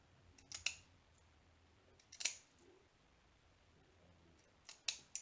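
Scissors snipping diamond painting kit material, a few sharp separate clicks of the blades spaced out across a quiet background, close to the listener, with no speech.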